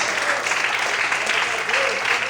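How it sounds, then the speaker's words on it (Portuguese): A church congregation applauds at an evening worship service, dense steady clapping filling the whole stretch with a few voices mixed in. "Quantos podem aplaudir e exaltar a Deus nessa noite"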